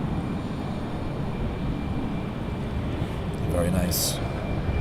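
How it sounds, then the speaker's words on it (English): TUI Boeing 737 MAX 8 taxiing nearby at Manchester Airport, its jet engines a low, steady broadband rumble with a faint whine, heard under brief talk from a person nearby. "TUI 737 MAX 8. Just taxiing past here."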